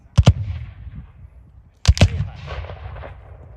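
Musket or cannon gunfire at a Civil War reenactment battle at Union Gap: two loud, close bursts about a second and a half apart, each with a sharp double crack and rumbling tail, followed by lingering echo and outdoor noise.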